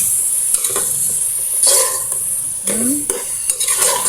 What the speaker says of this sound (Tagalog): Gigisa natin ito mga sis.